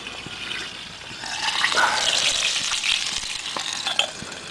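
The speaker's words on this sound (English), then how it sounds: "so I've got my sausages on the fry" Sausages fry in a pan outdoors at a bushcraft camp, giving a steady crackling sizzle with small pops, moderately close and unaccompanied by talk.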